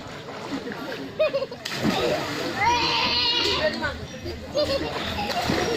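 Children splash and romp in water beside a tree in a village setting, with continuous sloshing and splattering mixed with lively kids' shouts and chatter throughout.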